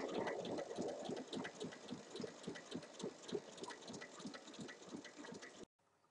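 A sewing machine runs a fast, steady, throbbing stitch around the edge of a fabric car organizer, continuing evenly for several seconds before stopping abruptly.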